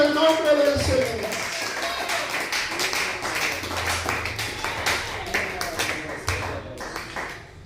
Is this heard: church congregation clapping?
yes